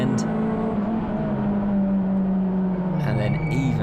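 A touring race car engine revs and climbs in pitch as it accelerates out of Graham Hill Bend at Brands Hatch, loud and close, with a commentator talking over it.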